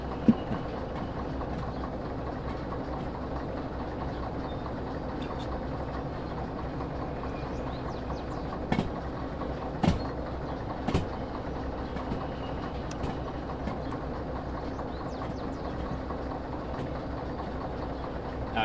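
In the train game Derail Valley, a diesel locomotive runs at notch 8, giving a steady, heavy low engine rumble with faint clicks and knocks over nearly twenty seconds.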